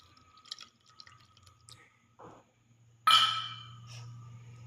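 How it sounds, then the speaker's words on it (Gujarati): Lemon juice trickles into idli batter with a few faint drips, then a louder splashy pour bursts in and tapers off against a low background hum. "લીંબુનો જ્યુસ નાખીશું"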